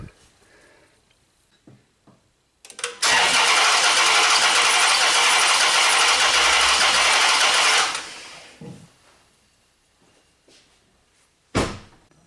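A smoke machine for leak testing on a Chrysler 300 with a misfire runs as a loud, steady hiss and whir for about five seconds, then cuts off, with quieter clunks and handling noises before and after and no talk.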